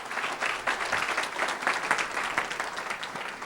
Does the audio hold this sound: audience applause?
yes